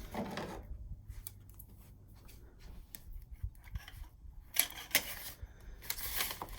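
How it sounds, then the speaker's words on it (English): Crisp snipping of scissors through a printed ribbon, a few quick cuts near the end after quiet shuffling and handling sounds. "let me grab some scissors"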